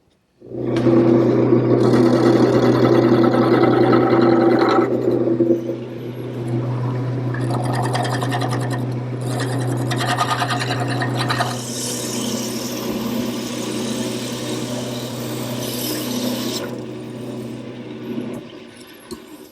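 A wood lathe turns a dowel for a quilt rack, a steady motor hum with a rough cutting hiss that shifts in strength as the tool works, then stops abruptly near the end.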